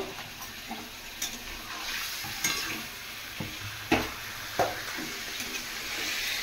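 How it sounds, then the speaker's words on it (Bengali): Marinated chicken sizzles in a hot frying pan while being stirred, a steady close crackle broken by sharp scrapes and knocks of a utensil against the pan. "একটু নাড়িয়ে নেবো"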